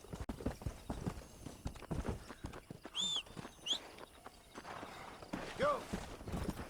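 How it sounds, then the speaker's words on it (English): Horse hooves clip-clop steadily in the Western video game Red Dead Redemption, a walking rhythm of close, distinct hoofbeats with brief neighs and whinnies breaking in now and then. "So let's get my horse right out of here, start up a camp, and then fast travel."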